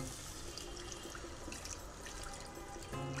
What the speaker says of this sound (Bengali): সেই পর্যায়ে দিয়ে দিব পানি